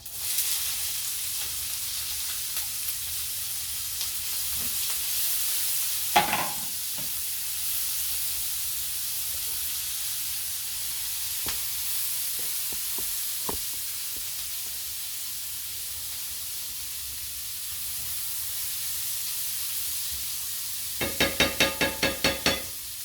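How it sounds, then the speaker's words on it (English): Half a small chopped onion sizzling in a frying pan, a soft steady hiss with a few stirring scrapes and a brief burst of louder crackle near the end, alone without talk. "And I cut half of a small onion. I got it in the pan now"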